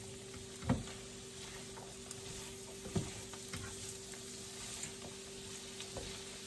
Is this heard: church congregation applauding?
no